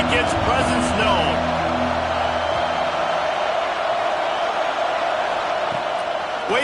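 Big stadium crowd roaring at a Tennessee versus Ohio State college football game, a sustained loud wash of cheering with a commentator's voice over the early part.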